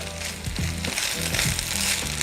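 Greens sautéed in avocado oil over medium-high heat with tongs, giving a steady broadband sizzle and crackle with a few soft tossing thumps, close and continuous throughout.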